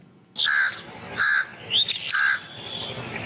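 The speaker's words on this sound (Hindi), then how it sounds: "ये कौन सा जानवर है? कौवा है ये?" A crow caws four times in quick, evenly spaced calls. The calls are close and clear against a quiet background.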